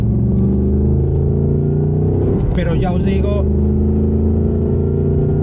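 A Ford Mustang Dark Horse with a manual gearbox drones with a loud, steady engine note throughout, and someone speaks briefly over it midway.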